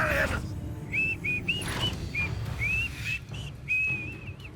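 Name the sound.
whistling in video game Hogwarts Legacy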